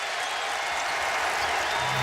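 A sellout basketball crowd in Greensboro, Tar Heel fans at a Texas versus North Carolina game, gives a dense, steady roar of cheering and applause that fills the whole moment, loud and continuous.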